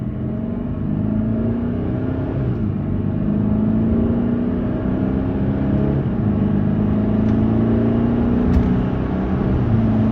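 BMW accelerating on a test drive after a rattle repair, a steady low engine rumble heard from inside with gradually rising pitch, smooth and continuous with no rattle or speech.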